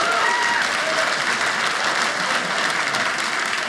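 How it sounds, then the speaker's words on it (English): Audience at a stand-up comedy special breaking into loud, sustained applause, a dense, even roar of clapping filling the room from start to finish. "Give Nathan a round of applause, won't you, please?"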